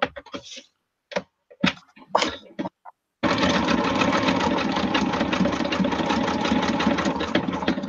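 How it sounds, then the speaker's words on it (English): A sewing machine stitching small antique-find pieces onto a tag starts after a few seconds of brief handling sounds, then runs continuously with a close, loud, rapid mechanical chatter. "I'm just sewing to try and catch all the pieces."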